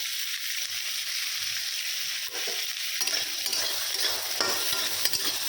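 Garlic, onion and capsicum frying together in a pan with chickpeas, a dense close sizzle broken by brisk stirring scrapes, growing busier and louder partway through.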